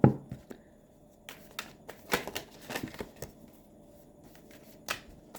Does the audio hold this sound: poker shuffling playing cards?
yes